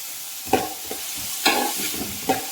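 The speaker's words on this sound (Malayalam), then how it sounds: "അത് നല്ല പോലെ ഇളക്കി കൊടുക്കാം" A spatula stirs semiya rava upma in a pan, giving three distinct scraping strokes spaced about a second apart over a soft, continuous frying sizzle close by.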